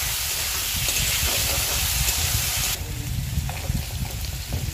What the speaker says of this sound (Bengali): যেহেতু তেল গরম হয়ে গেছে, এবার আমি এর মধ্যে দিয়ে দিলাম আলুগুলো